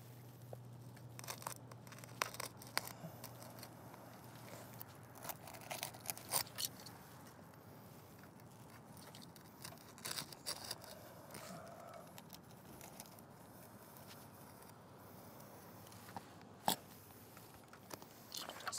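Architectural asphalt shingles are cut through a double layer on a roof for a solar panel junction box. Faint, intermittent scraping and tearing bursts come close by and alone, with no talking.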